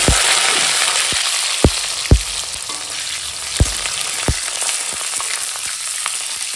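Potatoes fry in hot mustard oil in a wok with a loud, steady sizzle and a few sharp spatula knocks and scrapes against the metal, no talking.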